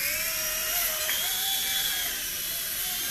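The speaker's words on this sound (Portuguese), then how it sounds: "vamos filmar aqui o helicóptero Xieda, fazer um voo aqui no Xieda" A Xiena 2 RC model helicopter lifts off from a tabletop indoors, its high-pitched whining rotor and motor drone steady and close throughout.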